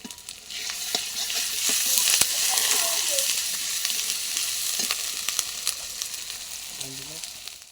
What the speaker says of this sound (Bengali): পেস্টটা ভাজা হয়ে গেছে, এবারে দিয়ে দেব আদা রসুন বাটা।